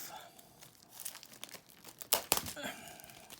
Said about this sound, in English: Get the cellophane off.